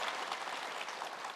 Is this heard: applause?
yes